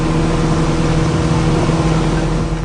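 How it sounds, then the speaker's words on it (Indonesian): A speedboat engine roars loud and steady on open water, a constant droning hum with no pauses and no voices over it. "Deru suara mesin speedboat terdengar cukup kencang."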